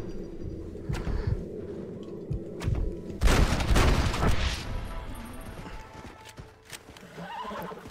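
Horses in Red Dead Redemption whinny and clop their hooves over game ambience, with a louder rough burst partway through and a few fainter whinnies afterward.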